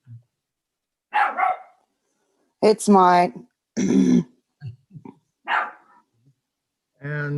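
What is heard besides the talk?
puppy barking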